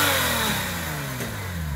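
A 2005 Porsche 911 Turbo S Cabriolet's 3.6-litre, 450 hp engine revs up and holds a steady, rising drone, loud and close throughout with no talking.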